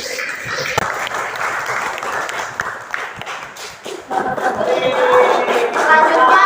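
Students in a classroom at an Islamic secondary school clap after a group presentation, a dense, steady patter of hands that stays strong throughout while a voice begins talking over it partway through.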